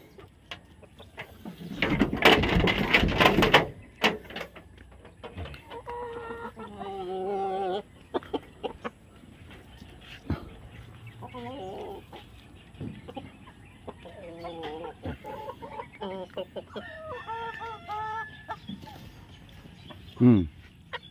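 Chickens cluck and call close by while being fed azolla on a farm, with rhythmic clucking phrases spread across the scene, a burst of rustling noise early on, and a person speaking now and then.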